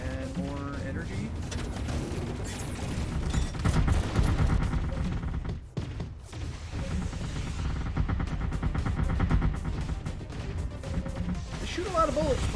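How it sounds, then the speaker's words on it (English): Sentry turrets in Artificial Extinction spray bullets in loud, rapid bursts of gunfire with crashing impacts, the shooting running almost continuously with a short lull midway. "They shoot a lot of bullets, but a lot of them miss."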